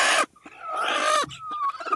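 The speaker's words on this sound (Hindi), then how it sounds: "यहाँ पर और मुर्गियाँ हैं जो अंडे पर बैठकर" Hens clucking while brooding on eggs on a village farm, a close, loud run of throaty clucks and drawn-out calls with no talk over them.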